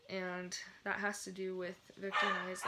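A dog barks and whimpers in several short bursts close by, mixed in with someone speaking indoors.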